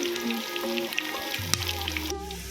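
Garlic and green chillies frying in a pan for a pumpkin dish: a steady close sizzle with small crackles and pops throughout, and a faint voice in the background.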